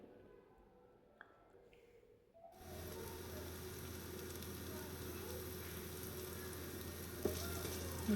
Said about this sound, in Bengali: তারপর একটা পেঁয়াজ কুচি করে নিয়েছি, এটা হালকা ভাজবো অল্প একটু লবণ দিয়ে